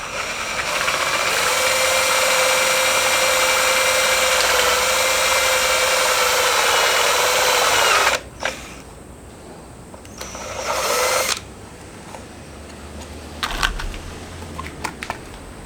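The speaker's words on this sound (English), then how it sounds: "start drilling." A power drill boring a small hole in the body of a Toyota JZX90, one long steady high-pitched whine for several seconds, then stopping, followed by a brief second burst and a few light clicks and knocks.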